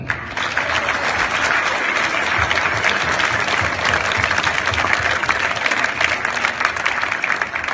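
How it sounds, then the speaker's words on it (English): A crowd applauds the winners at the closing ceremony of a world minigolf championship, loud, dense and sustained clapping filling the whole stretch without a break. "Please, one applause for all of them"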